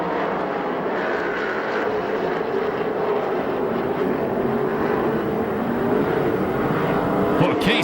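USAC/CRA sprint cars race at Perris, California, and their engines blend into a continuous, heavy roar that holds steady throughout from a distance.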